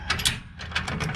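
A kayak trailer latch snaps shut, giving a few sharp mechanical clicks and ratcheting rattles close by over a short burst, with no talking.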